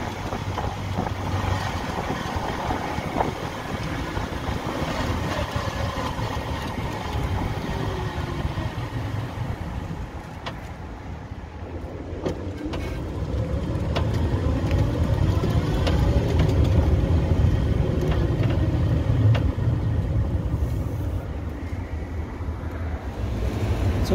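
Car cruising at speed with a newly replaced tie rod, giving a steady engine, tyre and road roar that swells louder midway through and holds, with no voices.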